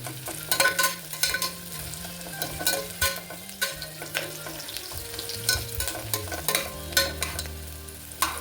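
Onion and spices sauté in a hot pan, a steady frying sizzle broken by repeated scraping stirs of a spoon against the pan, close and moderately loud with no speech.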